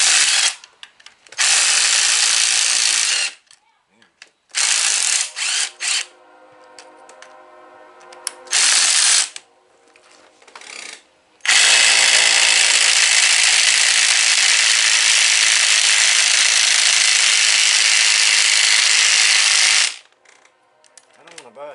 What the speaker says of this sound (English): We'll pull our brake off.